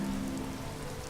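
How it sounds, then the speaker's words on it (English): Rain falls at night in the village of Riverwood in the Skyrim video game, a steady, even patter with no voices over it. "Once again, it's pitch black and raining."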